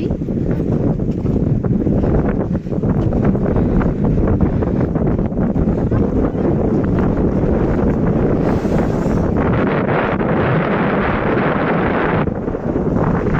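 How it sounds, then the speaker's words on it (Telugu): Strong cold wind roars and buffets the microphone in a steady, loud rush, with a faint watery swell underneath and no one speaking. "ఎంత చల్లటి గాలి వస్తుందో అసలు ఇక్కడ చాలా బాగుంది"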